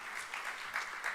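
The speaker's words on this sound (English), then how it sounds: "Big applause to the minister." A conference audience applauds the minister after the opening, a short burst of many hands clapping in dense waves at moderate volume.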